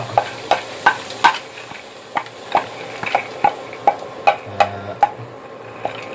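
Minced pork stir-fried in a pan with lemongrass and chili for a southern Thai dish, heard as a steady sizzle broken by regular scraping stirs, roughly two a second, close and alone.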